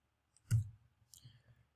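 Two distinct clicks of a computer mouse button sound close and isolated, the first sharper and louder, the second lighter about half a second later, in an otherwise quiet room.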